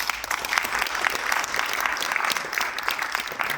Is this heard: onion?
no